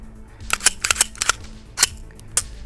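Sharp gunshots from a ZEV OZ9 pistol fired at a range: about eight crisp reports in quick, uneven bursts, a cluster early on and two spaced shots later, with no talk.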